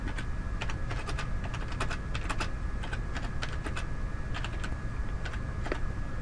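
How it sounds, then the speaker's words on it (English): Steady typing on a computer keyboard, a fast irregular stream of close, crisp key clicks over a constant low background hum, with no talking. "And I'm going to type this as a new page."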